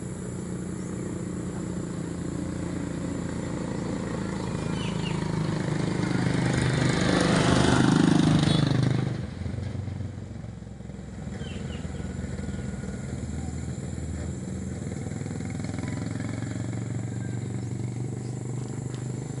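Motorcycle engine drawing close on a road, swelling to a loud rumbling pass around the middle, then dropping away to a faint idle-like drone with a quiet background.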